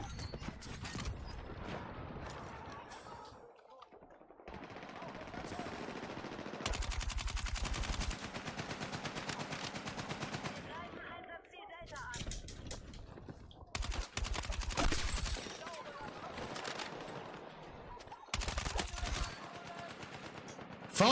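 Rapid automatic gunfire in the video game Battlefield 6, loud close bursts repeating in several long volleys with short gaps, mixed with mechanical clatter and game effects, no talking over them.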